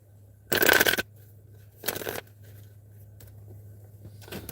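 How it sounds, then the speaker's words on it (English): Tarot cards being shuffled in two quick riffling bursts, close up, with a quieter rustle at the end; a low steady hum underneath. "One more shuffle."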